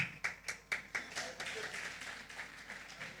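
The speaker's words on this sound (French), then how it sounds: "Donc applaudissons pour lui." A few distinct claps open, then blend into scattered, modest applause from a church gathering during a message to young people, fairly faint and close.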